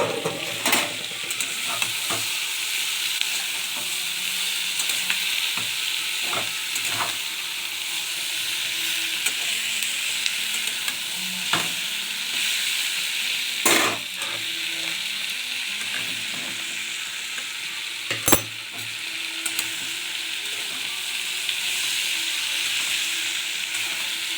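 Taro stolons frying and being stirred in a pan, a steady soft sizzle running throughout with occasional sharper scrapes and clinks of the spoon against the pan.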